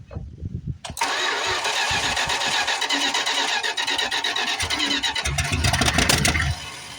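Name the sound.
1973 Plymouth Fury III engine starting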